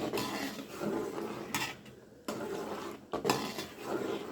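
Stirring boiling milk in a cooking pot, a spoon scrapes and clanks against the metal in short bursts with brief pauses between strokes, close by and without speech.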